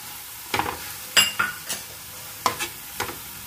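Crab masala spices, chilli powder, turmeric, fennel, coriander and cumin, fry with tomato in a pan, a soft sizzle punctuated by half a dozen sharp spatula scrapes and clanks at irregular intervals, no talking.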